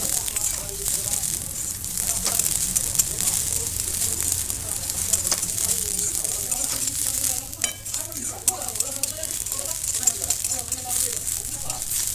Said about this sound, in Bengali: ম্যাগিগুলো আমার অল্প একটু ভাজা ভাজা হয়ে এসছে